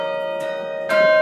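Baylor campus chime bells ring out, a sustained resonant bell tone ringing loud and near, with a second struck note swelling in just before the end.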